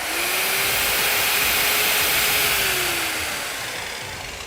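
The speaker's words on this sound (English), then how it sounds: "As soon as I ease off the trigger, the electronic blade brake kicks in, stopping the blade in seconds." An Evolution S210CCS heavy-duty metal cutting circular saw whirring loudly at full speed alone, its steady whine then dropping in pitch as the electronic blade brake slows the blade toward a stop.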